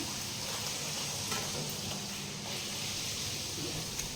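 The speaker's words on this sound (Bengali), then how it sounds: "এখন এই যে লুচিগুলো ভেজে নিচ্ছি" Luchi flatbread deep frying in hot oil, a steady, dense sizzle that carries on evenly throughout, close and fairly loud, with no talking.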